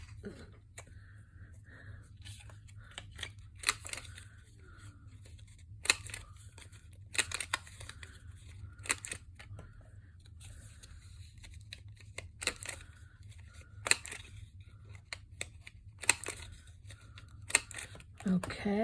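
Scissors snipping to round the corners of a paper travel journal, a quiet series of short, sharp cuts spaced irregularly with soft paper rustling between them in a calm room.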